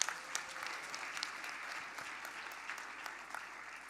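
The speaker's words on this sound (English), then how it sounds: "Let's give him another round of applause." Sustained applause from a graduation ceremony audience, dense and steady clapping filling the hall for several seconds with no voices standing out.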